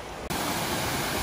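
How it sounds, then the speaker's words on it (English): A mountain waterfall in the Pyrénées roars in a dense, continuous rush of falling water that starts abruptly and stays loud and close throughout. "Over to a waterfall, I think."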